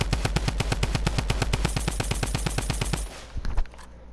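A drum gun in Fortnite fires a rapid, evenly spaced burst of loud, punchy shots for about three seconds, then cuts off into a brief clatter and silence.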